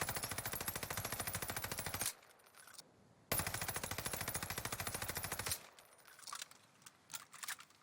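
Cooper carbine with Hardscope fired in Warzone, two long bursts of rapid automatic gunfire with a short pause between them, followed by quieter clinks and clatter as the shooting stops.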